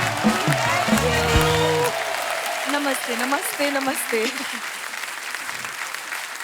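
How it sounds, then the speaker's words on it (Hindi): A studio audience claps loudly for TV actresses on a comedy show, with strong applause at the start that eases while voices exchange greetings over the continuing clapping. "जोरदार तालियां हो जाए हमारी टीवी की क्वींस के लिए"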